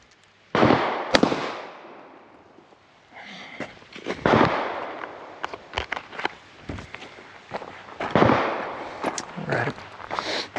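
Pistol gunfire during a qualification shooting test, a series of sharp, loud shots in irregular bursts with brief pauses, close by, plus some shuffling movement between strings of fire.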